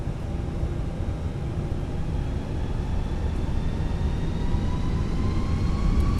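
Fenix A320 jet engines in Microsoft Flight Simulator spool up steadily, a continuous dense roar with rising whine tones that climbs slowly in pitch and loudness throughout.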